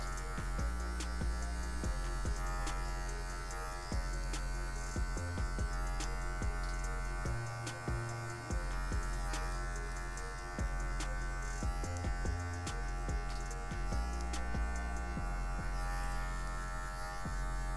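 Electric hair clippers buzz steadily and close while cutting a fade in afro hair, the hum briefly dipping and changing pitch as the blades move through the hair.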